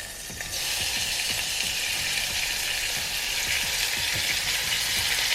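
Canned mushrooms and peppers land in a hot frying pan, the sizzle jumping up after half a second into a loud, dense, steady crackle with scattered spatter pops and stirring scrapes, close by, no voices.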